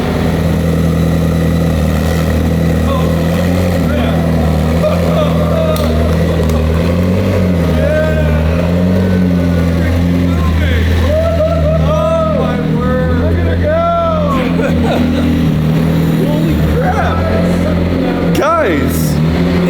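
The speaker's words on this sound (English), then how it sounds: "It's a working car. All right, internal combustion, reverse." A homemade McLaren P1 replica with an internal combustion engine idles loudly and steadily, its low droning hum continuous throughout as it shifts into reverse and starts to move, with excited voices talking over it.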